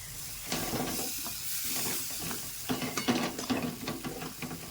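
Cashews, poppy seeds and watermelon seeds fry in oil for a dhaba-style paneer masala, a soft steady sizzle broken by scattered light stirring clicks and scrapes, close and fairly quiet.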